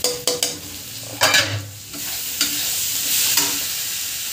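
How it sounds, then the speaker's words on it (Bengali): Masala with coriander and cumin powder sizzles in hot oil as a spatula scrapes and taps the pan in quick bursts, steady frying hiss beneath, close by. "অল্প জল দেবো, দিয়ে মশলাটা কষবো কিছুক্ষণ ধরে"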